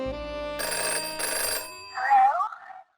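A telephone rings in a comedy skit, two bright electronic ring bursts in quick succession, followed by a short spoken pickup as a voice answers.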